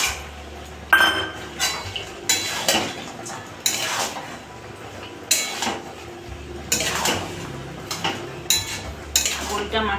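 Lentil dumplings (bori) tipped into a pan of mixed winter vegetables and stirred, with repeated clinks and scrapes of a spoon against the metal pan in uneven bursts, close and moderately loud.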